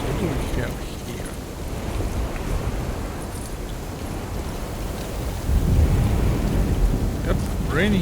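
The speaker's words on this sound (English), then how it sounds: "Yep, raining heavily." Heavy rain and thunder in the horror video game Alone in the Dark, a dense ongoing downpour with low rumbling that swells louder near the end, and faint voices in it.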